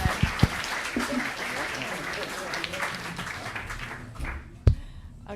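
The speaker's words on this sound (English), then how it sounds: "can I please have a round of applause for our four fantastic speakers" Audience applause for four panel speakers at a Battle of Ideas debate event, a steady wash of clapping from a room of listeners that fades toward the end, with a sharp knock near the close and some voices mixed in.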